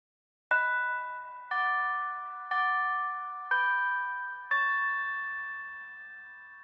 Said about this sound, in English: That's slightly different from the chime that I'm normally used to hearing.